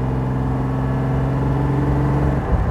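A 1962 Mercedes 300 SL Roadster engine pulls steadily up a steep hill in fourth gear, making a continuous, loud, even drone.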